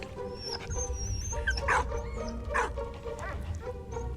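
Dog barking inside a video game, a few short yips and barks spaced across the clip over a steady background of game music and ambience.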